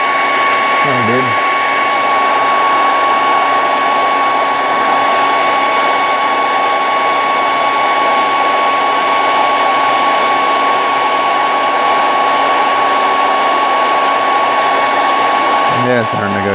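A hair dryer blows at a model-building workbench, a steady close whine with a constant hum that barely changes, while a voice briefly sounds near the start and end.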